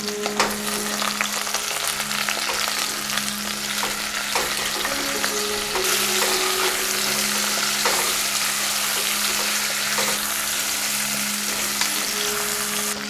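Butternut squash with spices and salt frying in a pan, a steady loud sizzle with occasional stirring scrapes and clicks, continuous and close with no talking.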